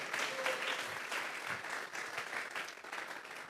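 A church congregation claps together in praise to God during a Spanish-language service, a steady, fairly soft and evenly dense round of applause heard from within the room.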